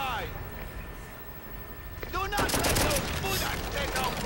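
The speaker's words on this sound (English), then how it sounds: "we got a guy in a turret shooting us right now" Turret machine gun fire in the World War II shooter Call of Duty: World at War, a dense crackle of rapid shots under voices and battlefield noise, growing louder and busier after the first two seconds.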